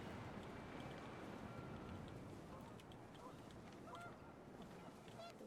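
Panicked geese honk in short scattered calls over gusting wind and a low rumbling wash in the What Remains of Edith Finch video game, faint and somewhat distant.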